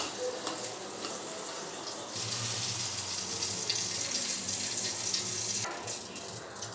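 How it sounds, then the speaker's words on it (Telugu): Pesarattu batter, a green gram crepe, poured onto a hot pan for an Andhra breakfast, giving a steady close hiss and sizzle that swells louder after about two seconds and carries on evenly with no talking. "ఇప్పుడు మనం పెసరట్టు వేసేసుకుందాం"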